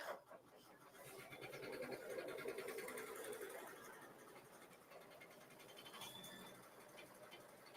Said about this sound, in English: And it's just stitching along, and it's going to be done, like I said, in less than a minute.